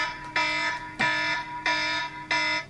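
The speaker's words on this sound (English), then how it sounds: "Fire alarm" A fire alarm sounds in four loud, regular electronic pulses, each bright harmonic tone lasting about a third of a second and separated by short gaps.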